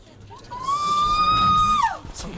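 A woman named Gillian Hampson screams in a video game, one long sustained high-pitched wail that swells and then breaks off, loud and close over a faint murmur of a crowd.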